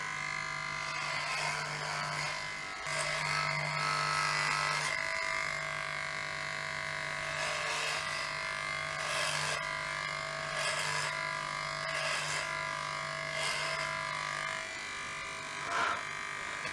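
Electric hair clippers buzz steadily through long hair during a home haircut, a close, continuous motor hum with short breaks and shifting cutting strokes across the whole stretch.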